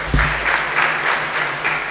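A crowd claps steadily for a couple of seconds, with dense applause filling the room.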